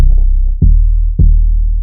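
Distorted, filtered 808 bass synthesized in Serum 2, playing alone as deep sustained booming notes, with two hard retriggered hits landing in an even rhythm.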